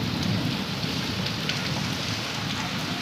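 Heavy, steady rain pouring down in a dense, even hiss with a low rumbling undertone, constant and close for the whole stretch.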